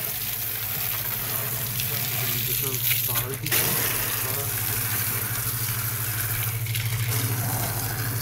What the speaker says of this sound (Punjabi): ਤਾਂ ਪਾਈਪ ਲੀਕ ਹੋਈ ਪਈ